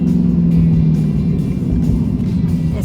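A 2017 Ford Mustang GT fastback with its 5.0-litre V8 pulls hard in third gear, a loud, close, deep burbling drone from inside the cabin for a few seconds.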